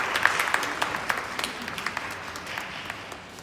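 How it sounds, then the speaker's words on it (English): An audience applauds at a live in-conversation event with an activist and historian, a sustained round of clapping with distinct sharp claps standing out, slowly fading toward the end. "Round of applause, please."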